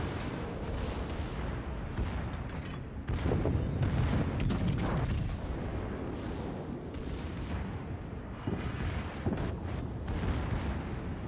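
Heavy naval gunfire from warship main and secondary batteries in World of Warships, a dense rumble of booming shots and explosions rolling on continuously with louder bursts mid-way, no voices.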